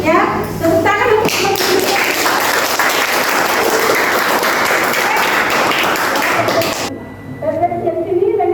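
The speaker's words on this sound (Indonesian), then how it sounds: "tepuk tangan untuk" Students in a classroom break into a burst of clapping, loud and close, with children's voices mixed in, then the applause cuts off abruptly and a speaking voice carries on alone.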